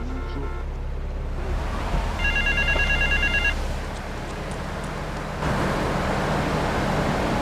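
Payphone in the Grand Theft Auto 3 video game ringing in repeated electronic trills, bright bursts standing out over a steady low rumble of traffic and ambient city noise.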